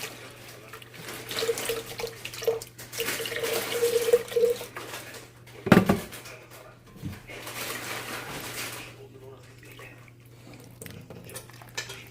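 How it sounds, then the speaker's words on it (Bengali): Water poured into strained beetroot juice in a kitchen, a running, splashing pour with drips and light vessel clatter over a low steady hum. "আর একটু পানি মিক্স করে নিই।"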